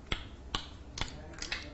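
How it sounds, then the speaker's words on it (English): Four sharp, evenly spaced clicks, each a quick tongue smack against the palate, close and distinct with quiet gaps between them. "Smack your tongue."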